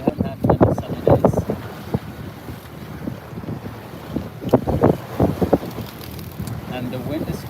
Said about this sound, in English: the wind is good, even if the wind direction is not ideal